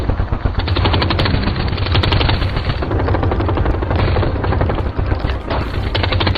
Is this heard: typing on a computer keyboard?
no